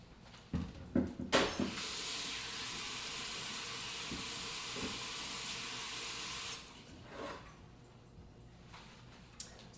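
A cutting board is rinsed under a running kitchen tap after cutting beef chuck roast: a few knocks and clatters, then a steady loud gush of water for several seconds that cuts off, followed by light handling sounds.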